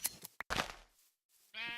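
Sheep in the Minecraft video game, a short nasal bleat near the end after a few brief clicks and scuffs, fairly faint and close.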